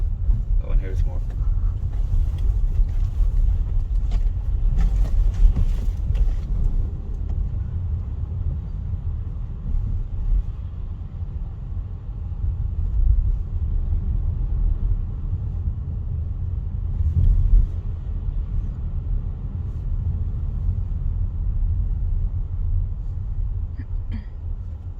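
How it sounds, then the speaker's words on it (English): A Polestar 2 car driving over super bumpy roads, giving a steady low rumble with road and wind noise throughout and occasional thumps from the uneven surface. People talk at times over it. "Oh, super bumpy roads."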